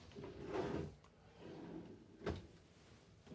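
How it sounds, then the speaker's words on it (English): Soft-close drawers in the bathroom of a 2023 Newmar Essex 4521 RV slide and ease shut, two muffled glides and a soft bump, quiet and near with no talking. "Nice bank of drawers here, soft close."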